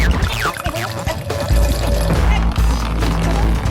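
A pouring, splashing stream stands in for urination in an airplane toilet in a comedy sketch, loud and close and running almost without break.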